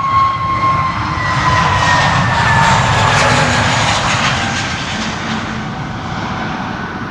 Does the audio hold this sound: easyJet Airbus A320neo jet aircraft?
yes